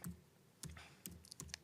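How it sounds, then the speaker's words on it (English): Quick bursts of clattering keystrokes on a computer keyboard, several short uneven clusters of clicks, close and fairly quiet with no talking. "sorry, my typing is appalling"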